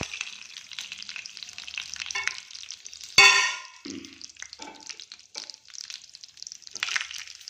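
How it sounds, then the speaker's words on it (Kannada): Mustard seeds, chana dal, urad dal, cumin, fenugreek, curry leaves and a dried red chili frying in hot oil, a close busy sizzle with scattered crackling pops and one sharp burst partway through. "ಇದೆಲ್ಲ ಸ್ವಲ್ಪ ಚಟಪಟ ಅಂತ ಸಿಡಿಲಿ."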